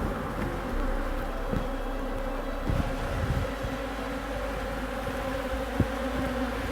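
Honey bees swarm around a hive in an organic apiary in Fujairah, making a steady, dense, fairly faint buzz throughout with no other sound standing out.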